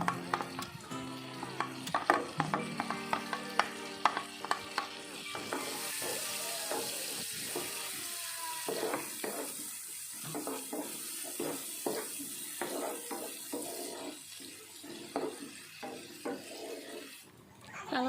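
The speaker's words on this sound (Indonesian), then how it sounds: "Terus baru kita tumis bawang bombay sama bawang putih sampai harum dan" Onion and garlic sautéing in Blue Band margarine in a pan, a soft continuous sizzle with light clatter and stirring knocks, some kitchen noise and a brief voice near the start.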